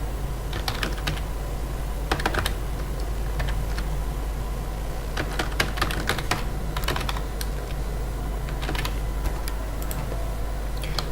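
Rapid keystrokes on a computer keyboard as an email address is entered, irregular clusters of clicks over a steady low hum, close and alone without speech.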